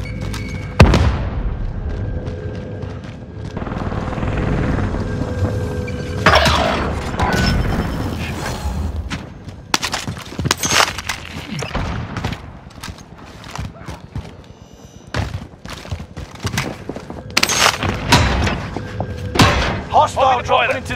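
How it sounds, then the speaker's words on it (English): A frag grenade explodes in Call of Duty: Modern Warfare amid other combat game sounds, with several heavy booms and thuds spread through the mix and radio-style callouts in between. "Throwing frag grenade."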